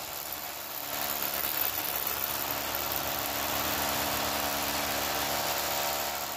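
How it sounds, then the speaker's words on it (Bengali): A steady mechanical drone from a power tool drilling a hole through a bathroom wall, with a constant hum that continues alone without pause throughout. "ওই দেখো বাথরুমের দেওয়ালটা ফুটো করছে"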